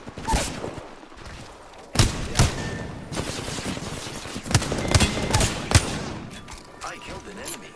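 Rapid bursts of gunfire in the battle royale game Apex Legends, sharp cracks and fusillades in clusters throughout, loud and close, with talk mixed in.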